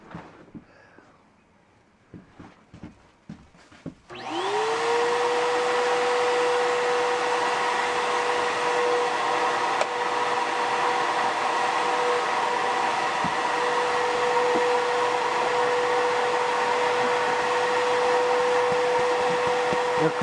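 A Bissell Powerglide upright vacuum with two motors, one of them faulty at the brush bar, is heard first as a few quiet clicks and handling knocks, then starts up into a loud, steady, high-pitched whine and airy roar that holds without a break.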